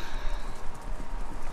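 Horses in the video game Kentucky Route Zero make a steady clip-clop of hooves over a constant low rumble, moderately loud and close, with no one talking.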